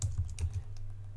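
A computer keyboard clatters with quick, close keystrokes in an irregular burst, fairly quiet and alone.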